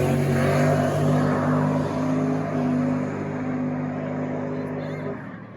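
A drag race car on a no-prep grudge pass, its engine holding a loud, steady droning roar with strong harmonic bands for about five seconds before cutting off near the end, with a voice heard underneath.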